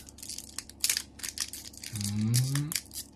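A Pokémon card booster pack is torn open, giving short crinkly, crunching bursts of foil wrapper close up, with a brief voiced hum near the end.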